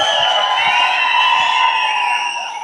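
A crowd at a gathering cheering and shouting loudly in a continuous, close wash of voices.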